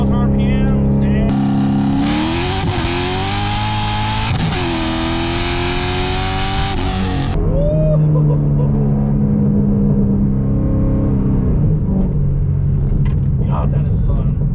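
A straight-piped, cammed 500 WHP C6 Corvette pulls hard in second gear from 45 at 4,000 RPM, its loud, close exhaust roar climbing in pitch through repeated rising sweeps, then easing into a lower, burbling rumble.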